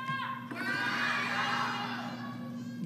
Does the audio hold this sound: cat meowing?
no